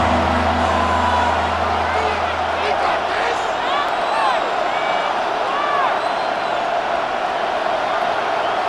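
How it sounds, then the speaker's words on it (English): A stadium crowd in a Madden NFL 26 game between the Tennessee Titans and Arizona Cardinals roars steadily and loudly, with whoops and whistles rising over the sustained din before a third-and-long play. "The crowd cranking it up another notch before 3rd and long"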